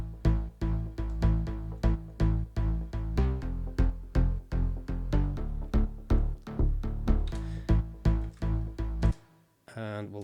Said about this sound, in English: And then with the bass, the first bass there with a little bit more sub energy in it